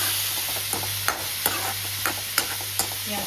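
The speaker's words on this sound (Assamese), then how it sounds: "এইফালে বনাইছোঁ ৰঙালাও ভাজি" Pumpkin is stir-fried in a pan: a spatula scrapes and clinks against the metal every half second or so over a soft, steady sizzle, with a low hum running underneath.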